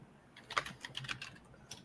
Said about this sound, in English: I'm typing her out right now